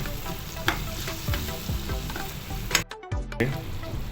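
Cashews tossed into onions and tomatoes frying in a kadai for paneer curry, giving a constant close sizzle with stirring scrapes and a spoon knock, a brief near-silent gap partway, and no talking.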